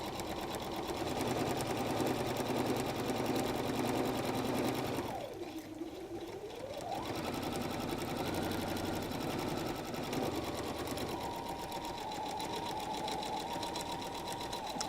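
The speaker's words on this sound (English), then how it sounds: "So I have the first one in my machine, and I will be sewing 5/8 of an inch in from the edge." A sewing machine stitches a messenger bag strap with a 2.5 stitch length, 5/8 inch from the edge, its motor whirring steadily and close, pausing briefly partway through before running on again.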